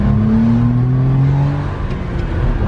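A 1992 Suzuki Carry 4WD kei mini pickup truck pulling away in second gear, its small engine droning loud and close, rising steadily in pitch as it accelerates, with no speech.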